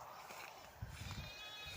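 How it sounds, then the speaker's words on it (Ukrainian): Goats bleat faintly in the distance on a rural homestead, their thin calls partly lost in a steady outdoor hiss. "кози вже плачуть"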